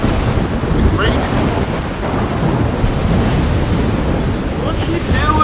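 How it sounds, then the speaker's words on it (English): Storm ambience from the game Life is Strange: a continuous loud wash of rain with rolling thunder rumbling underneath, steady throughout with no talk. "I'm trapped in a storm?"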